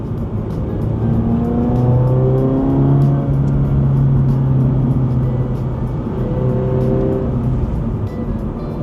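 A Toyota GR86 fitted with an AWE Touring catback exhaust accelerates hard, its engine note rising steadily in pitch as it revs, with a second pull later on, loud, close and continuous throughout with no talking.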